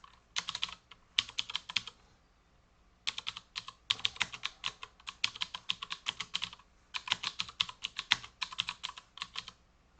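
Typing on a computer keyboard, close and quiet, in brisk runs of rapid key clicks separated by short pauses, with no one talking.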